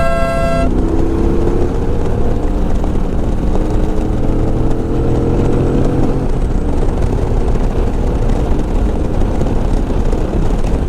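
A Triumph Speedmaster 1200 cc motorcycle on a road test ride gives a loud, continuous engine beat mixed with wind rush, with a brief tonal whine at the start.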